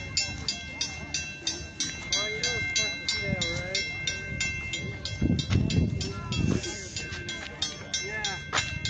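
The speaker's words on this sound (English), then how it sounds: "so we can get a clear shot of the train going by here." Edaville Railroad train passing at its 75th anniversary event, a rhythmic clatter of wheels over rail joints with a steady tonal whine, people talking close by over the passing cars.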